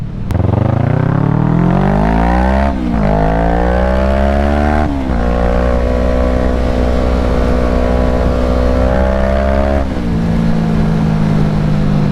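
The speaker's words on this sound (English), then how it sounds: "This, I can go wide open throttle on, and I'm perfectly fine." A motorcycle is held at wide open throttle on the street, a loud close engine howl rising in pitch through several gear changes, each shift marked by a brief dip before the climb resumes.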